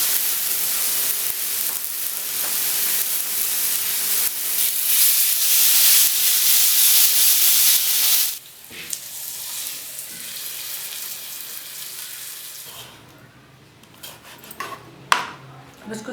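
Beef steak seasoned with black pepper and salt cooks in a pan, giving a loud, steady hiss and sizzle for about eight seconds before it drops away, followed by quieter clinks of utensils.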